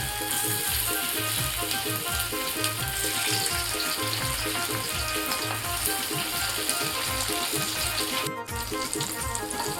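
Fish sizzles steadily in hot oil in a pan over a low flame, a loud, continuous frying crackle that holds without a break for the whole stretch.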